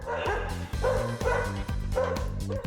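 Dogs bark over and over in an indoor dog park, loud and near. The rhythmic volleys of barks blend with yips throughout.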